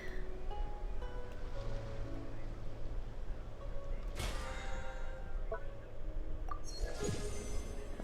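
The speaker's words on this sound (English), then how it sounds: "The waves are as calm as always." Calm ocean waves wash steadily in Genshin Impact, a soft continuous surf wash with occasional light clinks and chimes over it and no one talking.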